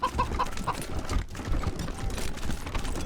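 A chicken clucking in the Wasteland 3 video game, a few quick clucks early on over a dense, noisy game background, then the background carries on without clear calls.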